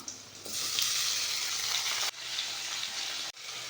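Tomatoes are added to softened onion and garlic frying in a pan for a dried fish curry, making a close, continuous hiss and sizzle broken twice by brief sudden drops.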